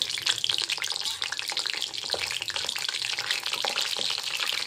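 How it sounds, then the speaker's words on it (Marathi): Cumin seeds and garlic sizzle and crackle steadily in a spoonful of hot oil while frying masala chillies, a dense continuous hiss with small pops throughout, close and fairly loud, no talking. "आता इथे थोडं जिरं टाकत आहे आणि थोडा लसूण"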